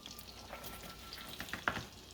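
Garlic shrimp with sliced onions sautéing in a hot pan, a soft continuous sizzle with faint stirring scrapes, close and quiet.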